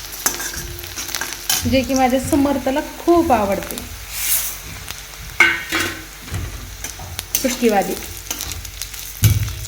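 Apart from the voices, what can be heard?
masoor dal frying in an iron kadhai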